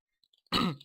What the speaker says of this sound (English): excuse me for clearing my throat a bit